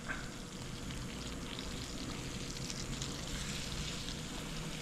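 Six flounder fillets sizzle crowded together in a pan, a dense, steady crackling fry that holds without a break from start to finish.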